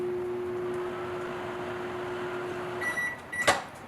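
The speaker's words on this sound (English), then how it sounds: "we're gonna warm it up in the microwave so that it's nice and warm." A microwave oven hums steadily while warming a cup of vinegar, its drone stopping near the end. A series of beeps and a door clunk follow.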